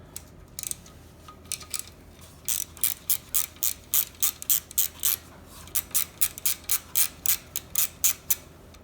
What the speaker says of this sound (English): So let me get this valve cover off.